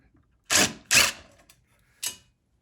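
An impact driver fitted with a Torx 20 bit backs out screws on a BullDog ERV, giving three short, sharp mechanical bursts separated by quiet pauses.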